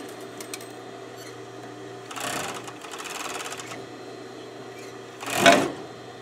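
A sewing machine stitches a stuffed animal with a straight stitch in two short runs, a brief burst partway through and a louder one near the end, over a quiet steady room hum with no talking.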